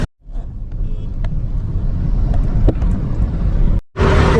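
Traffic at a chaotic, busy intersection on the outskirts of Mumbai, a steady close rumble of engines with wind buffeting the microphone, cut by a brief dropout near the end before a burst of louder noise.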